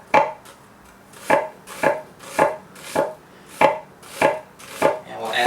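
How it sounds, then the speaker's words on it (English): Knife coarse-chopping Fuerte avocado and other fruit for guacamole on a cutting board, about ten crisp, evenly spaced chops in a steady rhythm, close and alone. "So just doing a coarse chop"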